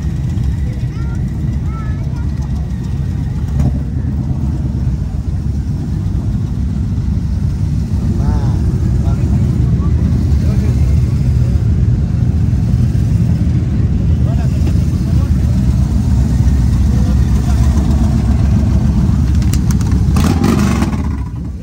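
A motorcycle engine runs steadily at close range with a deep, loud rumble, rising into revving at times, with a brief sharper burst near the end.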